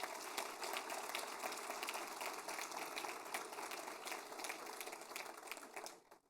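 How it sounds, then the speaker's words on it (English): Audience at a school district Teacher of the Year announcement giving a round of applause, a dense, steady wash of many hands clapping at moderate distance, continuing evenly before tapering off at the end. "Let's give them a round of applause."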